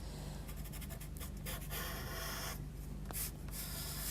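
A sepia pastel pencil scratches and rubs across paper while sketching a shadow line along a hillside track, a steady close dry scrape with short bursts of stroke texture, no talking.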